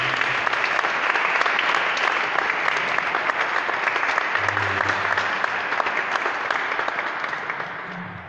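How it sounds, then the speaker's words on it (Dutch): Sustained applause from a concert audience at a Balkan orchestra performance in Leeuwarden, a dense wash of many clapping hands continuing steadily for the whole stretch with a faint voice briefly underneath. "Een groot applaus."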